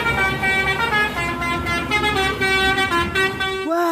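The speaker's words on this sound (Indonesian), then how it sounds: "Ternyata ini bus telolet." A toy telolet bus plays its melodic horn tune, a bright, sustained series of tonal toots that shift pitch in a quick sequence for about four seconds before cutting off.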